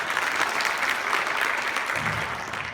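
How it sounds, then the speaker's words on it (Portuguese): Warm audience applause at a network-marketing motivational talk, a dense, steady clapping that holds throughout and tapers slightly at the end, with no speech over it. "uma salva de palmas calorosa para você"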